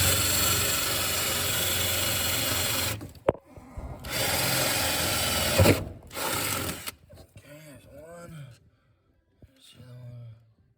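A Ryobi cordless power tool buzzes loudly in several bursts of a few seconds each, with short pauses between. It is used on a mid-engine Honda CRX project, and someone talks briefly between and after the runs.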